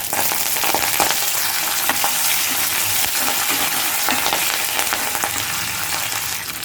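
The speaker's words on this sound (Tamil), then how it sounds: "இப்போது இதில் 1 டீஸ்பூன் அளவு கடுகு சேர்த்துக்கோங்க. 1 டீஸ்பூன் அளவு சீரகம் சேர்த்துக்கலாம். காஞ்ச மிளகாய் சேர்த்துக்கோங்க." Mustard seeds, cumin, dried chillies and curry leaves fry in hot oil with a loud, continuous sizzle and crackle, steady close-up spluttering throughout with no voices.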